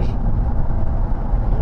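Steady, close engine drone from a 1996 Lotus Esprit with a 3.5-litre V8, heard from inside the car while driving, with a dense low rumble throughout.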